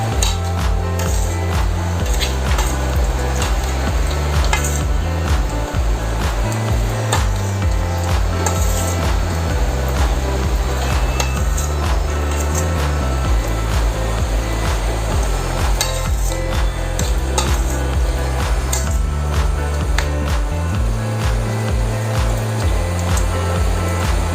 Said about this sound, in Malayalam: ശരി മിക്സ് ചെയ്യാം.